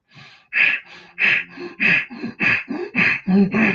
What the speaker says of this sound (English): breathe in and out through the nose by using the neck muscles